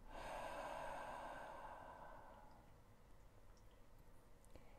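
A long, soft breath exhaled through the mouth during a relaxation meditation, a gentle airy whoosh that fades over a couple of seconds into quiet.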